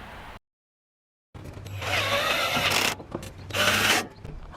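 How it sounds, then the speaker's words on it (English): A power driver running screws into a bracket while assembling a Suncast plastic storage shed, two loud bursts of whirring and ratcheting close by after a brief silence. "Attach the long bracket with 10 screws JJ."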